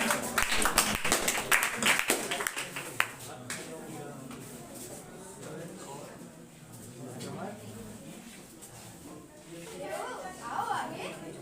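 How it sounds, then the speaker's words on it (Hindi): Audience applause at a school Republic Day celebration, a dense burst of clapping in the first few seconds that fades into quieter crowd murmur and scattered voices. "ताली बजाकर स्वागत करें।"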